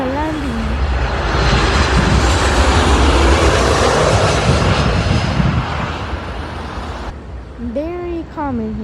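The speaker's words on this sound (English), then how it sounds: "It's a Boeing 737 coming in for a landing." A Southwest Boeing 737 lands at Midway International Airport, a loud, sustained jet roar that swells and then fades. Someone talks over the tail end.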